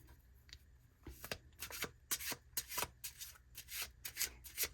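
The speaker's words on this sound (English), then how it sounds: "I'm going to shuffle a little more." Tarot cards being shuffled by hand, a series of soft, close riffling swishes coming in quick bursts with short pauses between, quiet and without talk.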